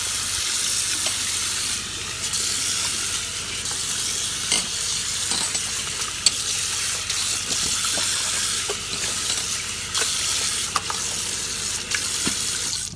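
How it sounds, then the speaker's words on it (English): Water rinses over a metal surface after scrubbing with a spin scrubber, a steady broadband splashing and hissing stream with scattered small clicks and drips, fairly close and running continuously without talk. "so let's rinse it off"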